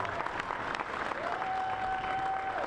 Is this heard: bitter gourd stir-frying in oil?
no